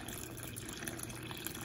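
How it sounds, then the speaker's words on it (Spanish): A little cold water is poured into a small tray while cooking an Oaxacan-style bean soup with spinach, giving a steady, soft splashing trickle at close range with no pauses. "Con un poquito de agua vamos a poner aquí dentro de la charolita."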